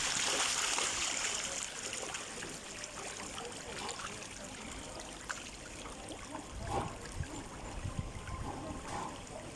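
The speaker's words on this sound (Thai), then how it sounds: "อันนี้เป็นแม่น้ำป่าสักนะครับ จะไหล เชื่อมต่อกับ แม่น้ำเจ้าพยานะครับที่จะไหลมาจากโน้นนะ" Pa Sak River water flowing steadily beside a Thai temple fish-feeding spot, a continuous broadband wash with faint scattered background sounds and a few soft splashes, no clear speech.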